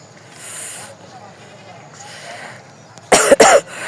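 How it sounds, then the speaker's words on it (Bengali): Two loud, sharp coughs close by near the end, after quieter murmuring and faint outdoor ambience in a mustard field. "কথা বললে এখনও আমার কাশি আসে"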